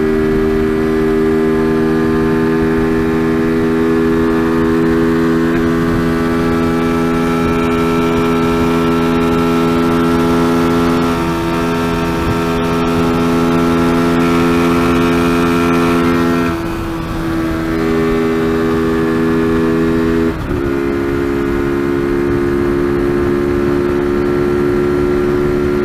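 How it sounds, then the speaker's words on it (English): A loud, sustained TVS Apache RTR 200 motorcycle engine drone, fitted with a KTM air filter, accelerating to top speed on a highway, with steady harmonic tones, dipping briefly twice as if shifting gears, running continuously throughout. "The next thing that I want to check is the top speed of this motorcycle"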